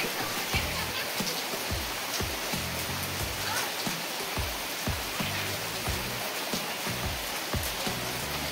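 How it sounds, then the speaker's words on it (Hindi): Heavy rain pours steadily outdoors, a dense continuous hiss with repeated low thumps, while someone speaks over it. "देखो तो कितना पानी गिर रहा है भाई"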